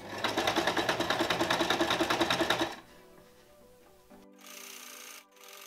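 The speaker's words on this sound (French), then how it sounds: "il suffit donc de mettre un point zigzag de la machine à coudre" A sewing machine runs a zigzag stitch along a fabric edge, giving a loud, rapid, even mechanical chatter for about three seconds before it stops, followed by a quieter hum and some faint handling noise.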